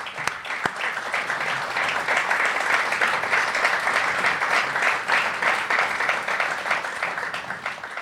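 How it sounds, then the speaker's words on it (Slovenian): Steady, dense audience applause at a celebration marking 35 years of the World Slovenian Congress, loud and continuous throughout with no voices over it. "in aplavz za to."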